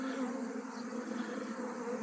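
Honey bees swarm from beehives at an apiary, a dense, continuous droning buzz of many insects, close and steady throughout with no talk.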